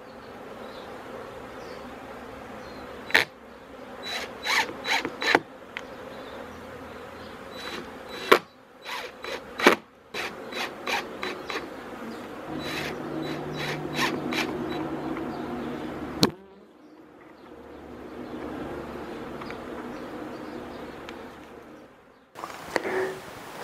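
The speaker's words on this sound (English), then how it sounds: "Notice that the bees are hovering out the front." Honey bees hum and buzz steadily around a freshly fitted hive entrance, hovering close by, with repeated sharp knocks and taps cutting through the drone.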